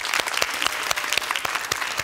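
Television studio audience clapping for young memory and mental arithmetic champions, a lively burst of applause with distinct sharp individual claps standing out from the crowd.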